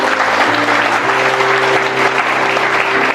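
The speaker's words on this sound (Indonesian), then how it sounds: "Tepuk tangannya jangan nanggung buat Yesus Kristus." A church congregation bursts into sustained, dense applause, a loud steady wash of clapping with faint tonal hum from instruments underneath, lasting the whole few seconds.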